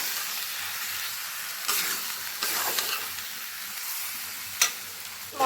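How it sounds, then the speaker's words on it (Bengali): Onion, tomato and ground spice paste sizzle steadily in a pan while being sautéed for Bengali aloo dum, a close continuous frying hiss broken by a few stirring scrapes and clanks. "সব কিছু দিয়ে এখন আবার ভালো মতন কষিয়ে নেব।"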